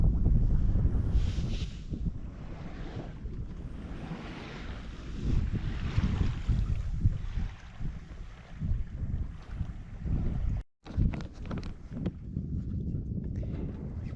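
A sailboat crosses Lake Erie under sail with the engine off, giving steady wind buffeting and low rushing water noise throughout, with a brief dropout near the end and no talking.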